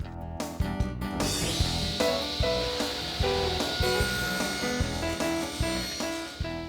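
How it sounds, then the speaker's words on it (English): A saw cuts partway through a wooden auxiliary fence, giving a close, rhythmic series of short rasping strokes that repeat evenly with no talking. "I cut partially through the auxiliary fence"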